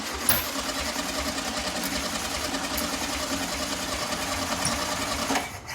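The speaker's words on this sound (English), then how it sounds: "Let's try this now with 4 spark plugs firing." A 1973 VW Sports Bug air-cooled engine runs steadily on four spark plugs, an even, close, mid-pitched idle that holds for several seconds and then tapers off, with no talking.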